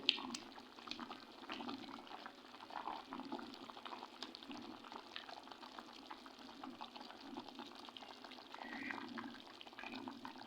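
A pot of chicken pochero with cabbage simmering on the stove, giving a soft, continuous bubbling with small irregular pops, faint and close, with no talking over it.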